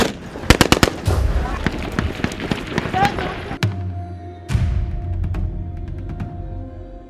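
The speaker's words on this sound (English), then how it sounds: "The heavy exchange of fire now." Heavy gunfire goes back and forth in South Sudan, with rapid bursts of automatic shots up close, then quieter pops in the distance behind a low hum.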